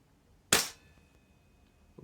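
One sharp, loud report from a Tokyo Marui MWS gas blowback airsoft rifle fired through a chronograph, a single crack that decays quickly into a quiet background with a faint tail.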